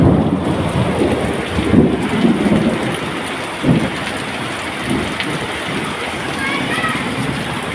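Heavy afternoon downpour hammering down steadily with rumbles of thunder, a sharp crack near the middle, as rain pours over a flooding area; people talk intermittently beneath the storm.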